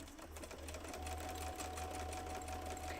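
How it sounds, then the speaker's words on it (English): A sewing machine stitches through cardstock, a quiet, steady mechanical whirr with a regular low thumping rhythm of the needle, close and continuous without talk. "I like the sound of a sewing machine."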